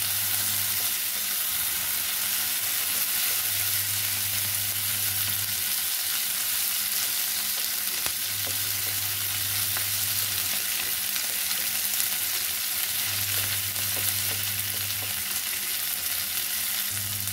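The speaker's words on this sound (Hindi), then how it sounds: "पनीर को भी भूनते हुए एक से दो मिनट हो गए हैं।" Paneer cubes fry in oil in a kadai, giving a continuous dense sizzle throughout with a low hum that swells and fades at intervals. No voices.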